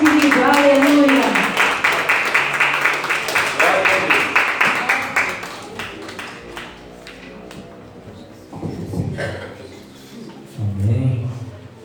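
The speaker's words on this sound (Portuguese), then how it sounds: "Aplauda Ele bem forte, querido." At a Portuguese-language church service, a congregation claps in a fast, steady rhythm alongside voices for several seconds. The clapping then fades, and a man's speech continues.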